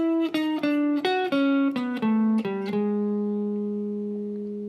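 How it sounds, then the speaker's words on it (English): Jazz guitar lick in swung eighth notes, a run of about eight bright plucked notes in a lilting long-short rhythm, the final note ringing out and slowly decaying, close and clear with no voices. "Now these are all swung 8th notes, and if you play the lick together, it sounds like this."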